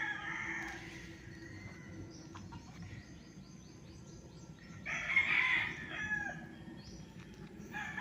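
A rooster crows on a developed farm property, its call standing out clearly over a steady background of insects and outdoor ambience, with a fainter crow earlier.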